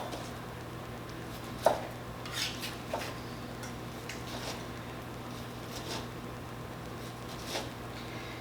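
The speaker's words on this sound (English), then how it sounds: "So we're gonna go ahead and slice our pork chop." A knife slicing a pork chop on a cutting board, a handful of soft, irregular taps and cuts against a low steady background hum.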